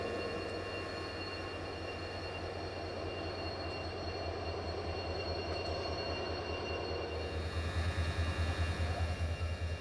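Sleeper class coach of the 11097 Pune–Ernakulam Poorna Express rolls along, a steady rumble of wheels on rail with a low drone, growing into louder rhythmic clatter near the end.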